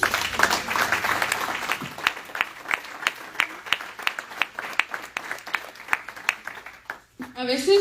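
Church congregation applause with distinct, spaced claps under a speaking voice, loud early on and then thinning to scattered claps before fading as talk resumes.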